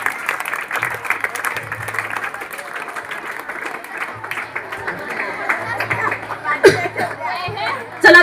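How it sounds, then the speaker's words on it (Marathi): Students clap together at a school National Mathematics Day program, a scattered, uneven patter of hands that rises and falls beneath children's chatter and talk in a hall. "टाळ्या वाजवा सगळेजण"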